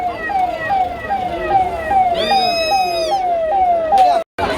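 A police car siren wails at a large temple fair on a road in Thane district, Maharashtra, loud and close with a repeating falling tone, a brief higher yelp burst midway, then a sudden cutoff near the end.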